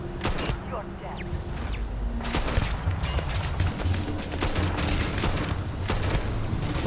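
Turret gunfire in the video game Starfield crackles in dense, rapid bursts that barely let up, loud and close amid other booming game effects, with voices mixed in.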